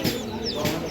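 Local desi chickens cluck at the Ruhitpur market, two short nearby clucks over a murmur of voices in the market.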